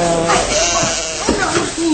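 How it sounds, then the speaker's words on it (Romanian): Sheep bleating in a farmyard scene of a radio drama, several wavering bleats over about two seconds, close and fairly loud, mixed with a voice talking over them. "Hai, altă oaie, alta, alta."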